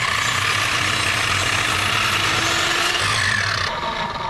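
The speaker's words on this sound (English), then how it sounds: "I'm putting the blade down, pushing the board against it, and then putting it up" A saw blade rips through a wooden board during a sawmill shed build, giving a loud, continuous grinding cut with a low motor hum beneath it that eases off near the end.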